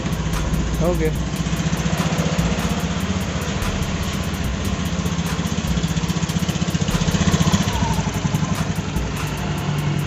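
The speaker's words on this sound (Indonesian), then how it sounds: "Kita nyalakan mesinnya." Honda Beat automatic scooter engine starting and idling after an oil change at home, a loud close steady putter with a rhythmic ticking throb, someone speaking briefly at the start.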